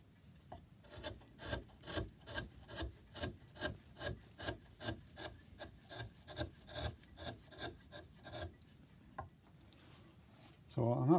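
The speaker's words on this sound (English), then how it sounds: "So I've sanded it down to 320 grit." Carved wooden miniature tailor's dummy being sanded by hand, a rhythmic series of close rasping strokes, roughly two per second, with a brief rougher rustle at the end.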